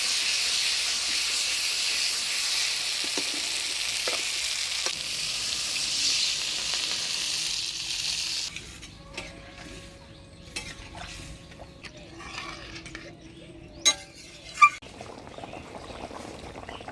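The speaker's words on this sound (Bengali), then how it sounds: "এবার জল দিয়ে দেব।" Water is poured into a pan of spiced yam and fish curry masala for Bengali village-style fish curry, raising a loud steady sizzle and hiss that dies down midway into quieter bubbling with a few clinks.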